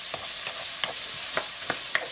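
Ingredients for a Fra Diavolo sauce sauteing in a pan, a soft continuous sizzle with a few distinct stirring scrapes spaced roughly half a second apart.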